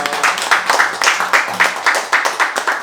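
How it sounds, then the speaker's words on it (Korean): A church congregation at a worship service claps in unison to give glory to God: loud, close, regular rhythmic claps, roughly three per second, with little else around them. "다 같이 하나님께 영광의 박수 드리겠습니다."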